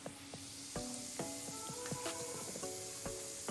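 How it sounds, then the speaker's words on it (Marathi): Peanuts frying in oil for poha chivda give a constant loud sizzling hiss, with scattered bright pops and crackles and occasional stirring clicks. "शेंगदाणे व्यवस्थित फ्राय करून घेत असतानाच ते मध्ये मध्ये हलवत राहा"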